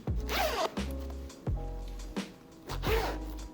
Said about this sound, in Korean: YKK의 이 리버서블 2A 지퍼를 사용을 했고요